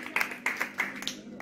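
A small audience at a mothers' celebration game claps for a contestant, a few scattered bursts of hand claps with voices mixed in.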